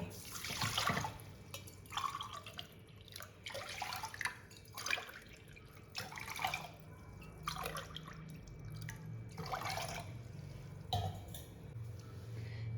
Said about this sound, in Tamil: இது பொங்கல்ங்கிறதுனால நம்ம குக்கர்லேயே வச்சுக்கலாம். பாருங்கள், 4 டம்ளர் தண்ணி.